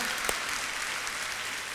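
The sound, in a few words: audience clapping loudly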